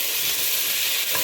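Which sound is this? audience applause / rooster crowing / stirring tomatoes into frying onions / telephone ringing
stirring tomatoes into frying onions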